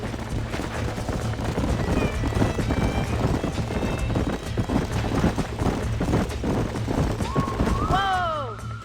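Horses gallop in the Red Dead Redemption video game, a fast rhythmic clip-clop of hooves with wind, voices talking over it, and a horse's whinny near the end.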